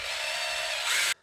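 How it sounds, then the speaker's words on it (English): A power drill spins a bolt extractor against a seized starter bolt on a 1993 Volkswagen T4, a steady loud grinding whine that runs for about a second and then cuts off abruptly. "I connect this bolt extractor on my drill,"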